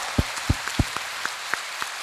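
A church congregation gives a short round of applause in praise, heard as a few sparse, distinct claps with faint taps between them, brief and fairly close.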